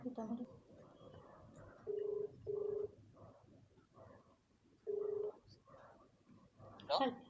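Three short steady electronic keypad tones sound in an uneven sequence, with a voice talking softly underneath and a brief chirpy sound near the end.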